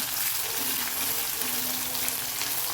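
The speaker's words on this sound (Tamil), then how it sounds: "இந்த ஆயிலே நல்லா வதங்கணும் ரெண்டும்" Dried red chillies and small shallots sautéing in hot oil, a dense continuous sizzle close up, fairly loud and even throughout with no speech.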